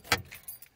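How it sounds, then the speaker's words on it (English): Car keys jangle briefly and faintly inside a vehicle, a quick metallic rattle followed by a couple of softer clinks. "There's the keys"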